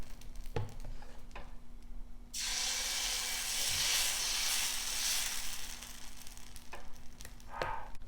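Dosa batter is poured onto a hot iron griddle for small dosas. After a few quiet clinks, a loud, sudden sizzle bursts up and keeps hissing strongly, then fades back to scattered crackles and utensil taps.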